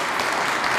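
An audience at a Women's Day celebration in Amersfoort, Netherlands, applauds in a dense, steady burst of clapping.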